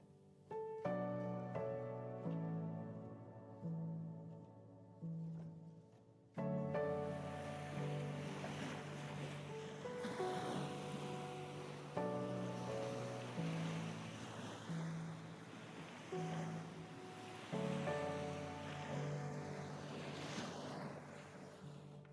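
Ocean waves surging on the black sand of Reynisfjara beach in Iceland, a continuous roar of surf with swells building and breaking. Layered with a background of sustained musical tones.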